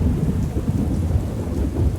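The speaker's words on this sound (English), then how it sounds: "Thunder clapped outside." Thunder rumbles low and heavy through steady rain, a dense continuous roar close by with no voices.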